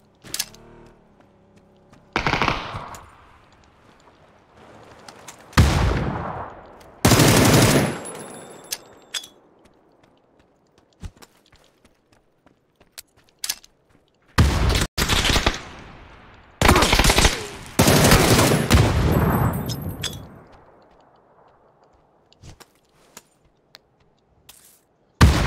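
Bursts of automatic gunfire and single shots from a shooting video game, with loud volleys around the middle and near the end and quieter scattered shots between them.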